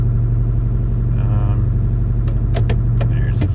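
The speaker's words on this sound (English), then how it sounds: "just a quick video going through the gears in town here" 2009 Ford F350 with a Detroit 4-53T turbo diesel and 5R110 transmission driving through town, a steady, loud, close low diesel drone with a few brief clicks and knocks as it moves through the gears.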